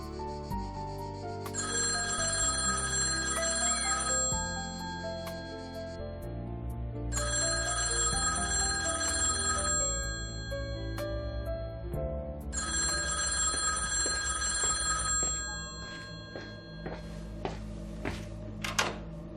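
A telephone rings in three long, loud bursts with pauses between, over a busy city-like background hum, the final burst cut short as it is picked up with a couple of handling clunks.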